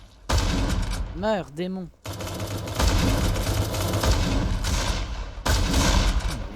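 Rapid bursts of gunfire from a shooting video game ring out loud and close, with a short pause before the firing resumes, while someone speaks French over the shots.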